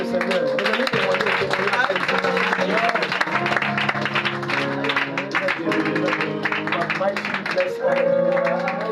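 A congregation at a prayer service applauds steadily and loudly, mixed with crowd noise and singing voices that carry over the clapping throughout.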